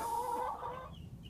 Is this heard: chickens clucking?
yes